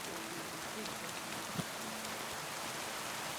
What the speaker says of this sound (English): Of course, it's raining.